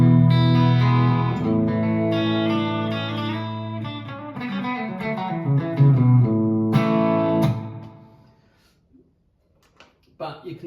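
Guitar played through a Valeton GP200 multi-effects unit on a heavily reverberant patch, sustained chords and notes ringing loudly for several seconds before fading into a long decaying tail, followed by near silence and a couple of faint late plucks.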